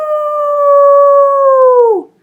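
A wolf gives one long, loud, steady howl, a clear held tone that sits level for nearly two seconds and then bends downward and cuts off, with silence after.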